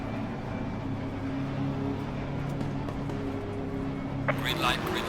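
GT3 race cars idle on the grid at Zandvoort in Assetto Corsa Competizione, a steady low engine hum holding throughout before a burst of louder revving near the end as the start approaches.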